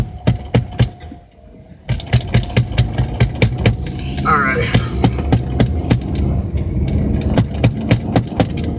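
A small power inverter switched on gives off a steady throbbing, engine-like hum with regular pulsing beats, close and fairly loud, with a brief spoken remark at the start.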